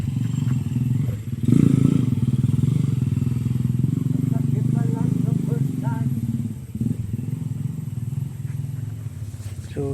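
A motorcycle engine runs close by at a rural farm house building site where sand is being hauled, a low steady rumble with some clattering, heard under people talking nearby.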